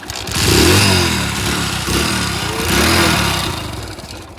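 A kick-started motorcycle engine idles with a chugging low beat and revs up twice in loud surges, close by, with no talk over it.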